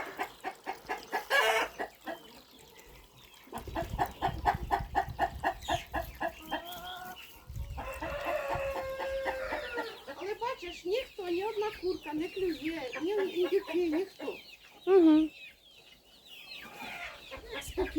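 Chickens cluck and a rooster crows in a farmyard, with repeated rhythmic clucking bursts close by and someone speaking intermittently over and between the birds.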